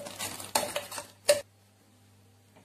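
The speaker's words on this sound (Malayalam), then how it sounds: "ഇനി എല്ലാം കൂടെ നന്നായിട്ടൊന്ന് ഇളക്കാം" Carrot payasam being stirred in a metal pot: a few quick scraping, clinking strokes of a spoon against the pot, then a short pause and one louder clank before it falls quiet.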